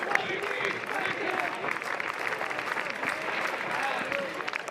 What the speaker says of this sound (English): Clemson's crowd starting to get back into this game after the 2-run rally in the 6th tied it